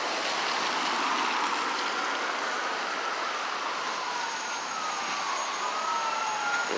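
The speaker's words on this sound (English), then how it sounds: "This might be the ambulance coming for this gentleman." Ambulance siren on a busy Boston road, a faint wailing tone that rises and falls above steady broadband traffic noise and gradually grows more prominent.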